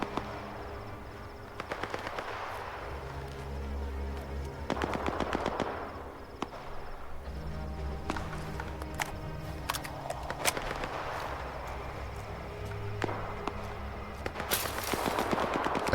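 Sporadic gunfire from pot shots in the STALKER 2: Heart of Chornobyl shooter, sharp bursts and single cracks scattered over a steady low ambient rumble, moderately loud, with no talking.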